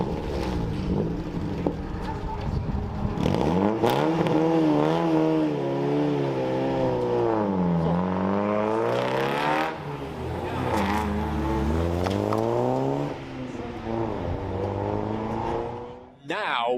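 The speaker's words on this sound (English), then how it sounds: "in comes the number 51 of Mayloughlin and Bailey" Race cars in a Hyundai Coupe Cup race roar past, engines rising and falling in pitch through gear changes, loud and continuous, with a commentator talking over them.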